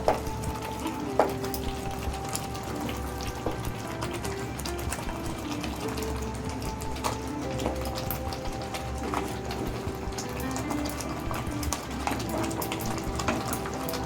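Prawns being stirred and mixed in a frying pan for chingri malai curry, giving a steady sizzle with scattered scraping clinks of a utensil against the pan throughout, close and fairly even, with no talking.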